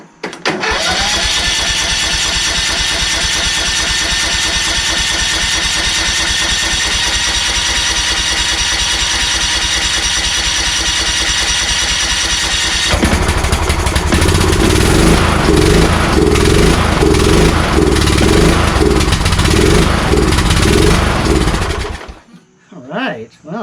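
A John Deere LA120 riding mower, a curbside garbage find, cranks and catches, its engine running loud and steady with a rougher, louder stretch partway through before cutting off near the end.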